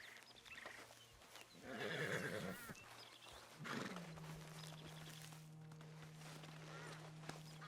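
A horse in the video game Red Dead Redemption 2 lets out a loud whinny and snort, followed by hoof clip-clops, with a steady low hum underneath.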